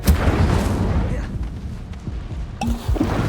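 Expulso spell detonating in Hogwarts Legacy, a loud booming blast followed by rumbling debris and smaller impacts, with a voice briefly heard amid the noise.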